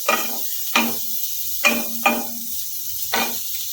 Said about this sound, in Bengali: বাঁধাকপি যাতে একটু শক্ত হয় একটুখানি ভালো করে নেড়ে চলে